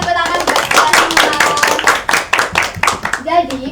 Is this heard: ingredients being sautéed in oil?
no